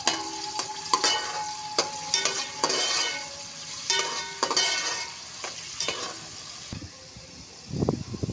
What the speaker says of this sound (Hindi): तेल गरम हो गया है, मैं प्याज डाल रही हूँ।